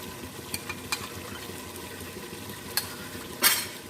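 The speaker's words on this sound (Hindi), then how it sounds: "दही को हम मिक्स कर लेते हैं।" Yogurt being stirred into mutton paya masala in a pot gives scattered clinks and wet scraping strokes over a low, even simmering hiss, with one louder spoon knock near the end.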